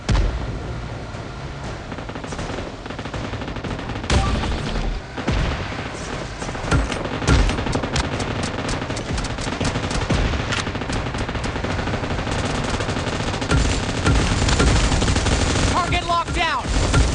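Sustained gunfire from PUBG Mobile, with dense bursts of automatic weapon shots and single cracks layered over a steady, loud battle din for the whole stretch. Heavier reports and booming impacts punctuate it.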